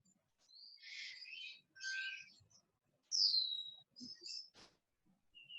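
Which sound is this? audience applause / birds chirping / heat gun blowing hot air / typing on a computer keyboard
birds chirping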